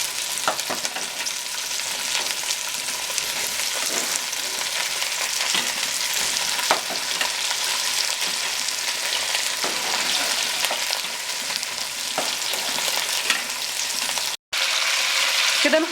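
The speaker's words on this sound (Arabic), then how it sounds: "كده انا حطيت الكوارع بتاعتي في الحله وهشوحها تشويحه بسيطه" Cow trotters seared in a pot, a loud continuous sizzle with frequent stirring scrapes and clatter, close up, cutting out briefly near the end.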